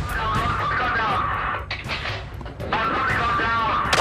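A sniper's rifle shot during a police chase cracks out amid booming, rumbling gunfire and engine noise, loud and dense, with a brief dip in the middle before the heavy roar resumes.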